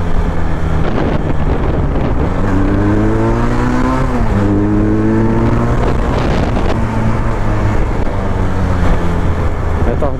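Motorcycle exhaust pipe roaring while riding on the road, the engine note rising and falling through gear changes under steady wind buffeting, loud and close throughout.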